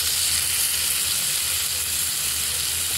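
Tomatoes go into a frying pan of spices over a low gas flame for an egg and potato curry, giving a steady, loud, close sizzle and fry with no talking.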